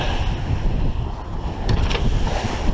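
Sailboat under way on Lake Erie near Pelee Island in an uncomfortable chop, with steady wind rushing and buffeting the microphone over continuous water wash against the hull, no voices.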